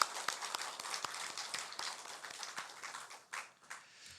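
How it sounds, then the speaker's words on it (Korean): A church congregation applauds during a Sunday worship service to welcome a visiting missionary, a fairly faint, loose scatter of clapping from a mid-sized room that thins out toward the end. "우리 박수로 환영했으면 좋겠습니다."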